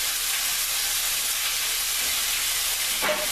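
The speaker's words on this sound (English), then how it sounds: "I'm going to put it into a hot sizzling pan" Bacon and steak frying in olive oil in a hot pan, a steady broadband sizzle and hiss that runs unbroken throughout at close range, with a faint brief clink near the end.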